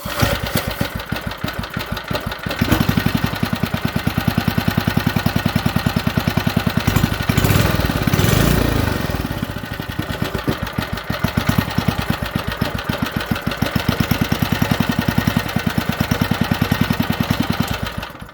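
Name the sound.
old Briggs and Stratton small engine running at low idle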